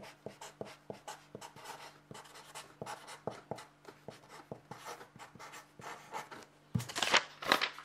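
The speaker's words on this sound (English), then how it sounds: "I'm going to write it down on this paper" A pen scratches on paper in short, irregular strokes close by, with small taps between them. A louder rustle comes near the end.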